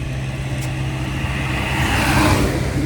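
A car approaches along a road and passes close by, its engine and tyre noise swelling to a peak near the end over outdoor background.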